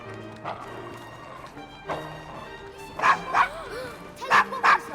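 A dog in the Victorian London streets of Assassin's Creed Syndicate yaps and barks in quick bursts, with a few whimpering yips, over a murmuring game ambience and faint voices.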